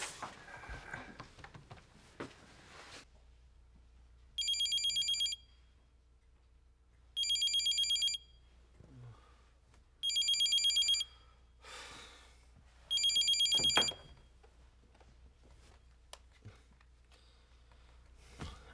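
A telephone ringtone in a Korean sitcom scene chirps in four separate electronic bursts, each about a second long with short gaps between, clear against an otherwise quiet room.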